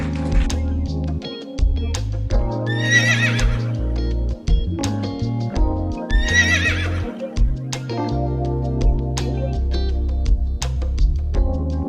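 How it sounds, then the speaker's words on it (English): A horse gives two long, loud neighs with quivering whinnies, surrounded by snorts and shuffling hoof sounds, with no voices. "It's a horse."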